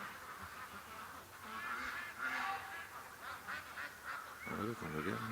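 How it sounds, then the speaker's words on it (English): Ducks in a pen near a swamp quack and honk in a busy overlapping chorus, growing louder and fairly close, with nasal calls stacking up through the whole stretch. "Okay, the ducks in the pen are getting louder."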